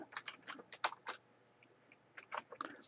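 Keys on a computer keyboard are tapped as a date is typed: a quick run of close, light clicks, a short pause, then a few more keystrokes.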